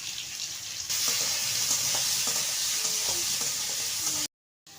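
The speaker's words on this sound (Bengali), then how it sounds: "এবার আমি আলুটা ভেজে নেব।" Potatoes fry in oil in a home kitchen pan (kadai), giving a steady loud sizzle with occasional stirring scrapes and clinks, continuous for a few seconds before cutting out abruptly near the end.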